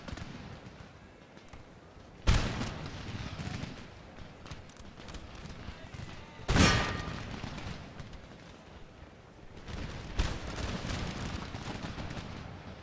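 Musket volleys in Empire Total War, a Russian army battle, with three loud crackling bursts of massed gunfire standing out over a continuous din of distant battlefield shooting and noise.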